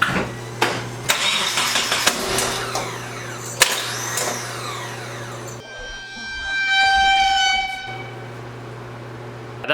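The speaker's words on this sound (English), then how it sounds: "I'm wondering if it was just a backfire into the intake." A Nissan 240SX with a KA engine cranks and coughs, with sharp backfire pops into the intake over a steady starter drone, then stumbles into a rough, uneven idle; close and loud, no talk.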